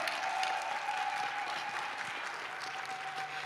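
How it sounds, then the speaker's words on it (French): A congregation applauds and cheers for Jesus Christ during a sermon, a sustained wash of clapping heard fairly faint and distant, with no speech over it. "Je veux des acclamations pour lui."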